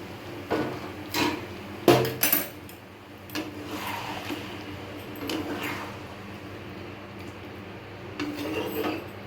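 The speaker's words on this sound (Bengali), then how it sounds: "জলটা দিয়ে একটু নেড়ে চেড়ে নিচ্ছি।" Chicken being stirred in a pot after hot water is added, a ladle knocking and scraping against the pot in irregular close clanks, louder early and softer later.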